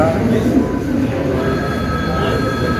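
A special Aastha train pulls out of Amravati railway station with a loud, steady rumble of wheels and carriages close by, continuous throughout.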